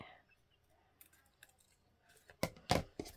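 Scissors trimming paper for a handmade journal tuck: a few quiet rustles, then a cluster of three crisp close snips near the end.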